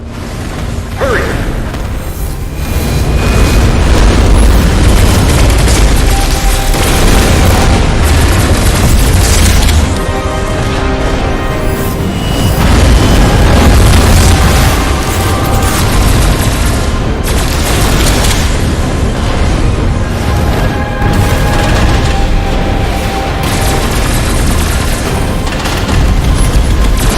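Gauss cannon blasts and explosions in the sci-fi VR game Unearthing Mars 2, a loud continuous barrage of booms and bursts over rumbling low-end combat noise, with no talk.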